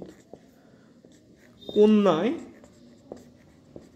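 Pen writing a note on the side of a page during an astrology lesson, a brief scratchy stroke of about half a second amid faint taps, with someone speaking over it.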